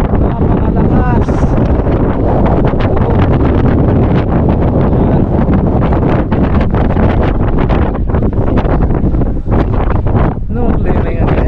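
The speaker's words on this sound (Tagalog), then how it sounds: "Lakas ng hangin." Strong wind buffets the microphone atop Mount Marami in Maragondon, Cavite, a loud, unbroken roar with gusty rumble throughout, and people talk faintly beneath it.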